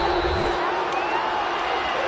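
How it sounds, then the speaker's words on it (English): Large stadium crowd roaring and shouting continuously at a college football game, a dense, steady wall of voices filling the space without letup. "Shouts from this crowd as they watch the replay."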